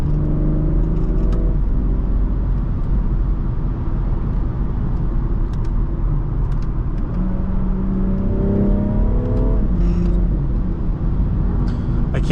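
A 2017 BMW 440i Coupe accelerates hard on the road, its engine droning loudly from inside the cabin with rising pitch sweeps through gear changes over constant road rumble.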